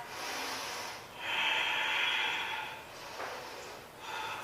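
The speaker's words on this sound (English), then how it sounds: "Big breath" A deep breath during a HIIT workout: a long, hissing inhale and exhale through the nose, close and breathy, followed by a shorter second breath.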